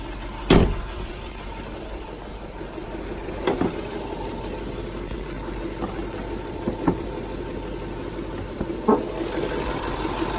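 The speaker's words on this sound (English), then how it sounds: "Land Rover, Range Rover engine. Sounds beautiful, no weird noises, no weird hesitations. It's a V8 engine, it's very powerful in this one." A 2012 Range Rover HSE with a V8 engine idles in a smooth, steady low rumble, with a few faint clicks and knocks over it and no one speaking.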